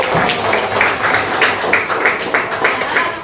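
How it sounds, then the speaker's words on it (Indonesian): Classroom pupils clapping for a classmate, a steady patter of many small hands at close range with faint rhythmic pulses and no talk over it. "Tepuk tangan buat"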